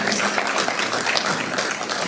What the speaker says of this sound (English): And you can keep the applause going for the rest of the day.